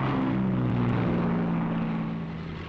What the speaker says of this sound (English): timed to the escort schedule, the P-38s get underway